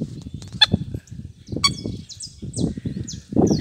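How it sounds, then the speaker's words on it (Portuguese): Small ducks with five ducklings at a pond, giving soft repeated low calls and a few sharp higher peeps over faint outdoor background, no talking. "Essas marrequinhas aí, ó. Tem 5 filhotinhos ali, ó."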